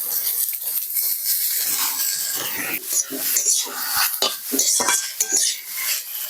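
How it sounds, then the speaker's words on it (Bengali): Grated bitter gourd is tossed into a wok of hot oil with onions and stirred, giving a busy metallic scrape and clatter of the spatula over a soft, steady sizzle, close and fairly loud throughout. "এবার আমি গ্রেট করা উচ্ছেগুলো দিয়ে দেবো কড়াইতে।"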